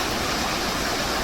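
A clear mountain valley stream rushes over rocks at Sibiseonnyeotang valley near Daeseungnyeong, a dense, steady broadband hiss with no pauses or other sounds.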